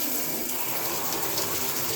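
Lukewarm tap water pours in a steady close gush for watering orchids, a continuous loud rush with no talking.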